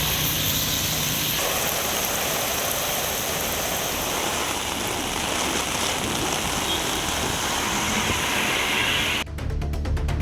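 Steady heavy rain pouring down in Tamil Nadu, a dense continuous hiss that stays loud throughout, with a brief shift in texture near the end.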